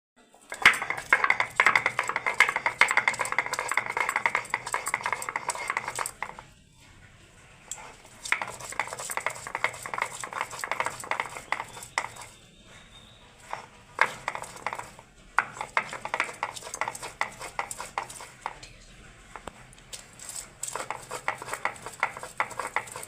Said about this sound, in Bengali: আদা রসুনগুলোকে একদম মিহি করে বেটে নিচ্ছি